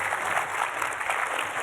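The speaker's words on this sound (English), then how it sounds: "round of applause for Luanne" Conference audience applauding a speaker, a dense and steady wash of clapping that is fairly loud and continuous.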